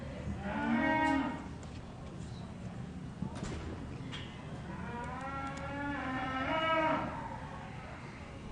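Yearling Irish Dexter heifers low in a show ring, two long drawn-out moos rising and falling over a steady background of arena murmur and a voice.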